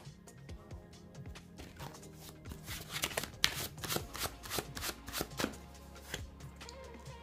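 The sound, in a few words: handling oracle cards for a tarot reading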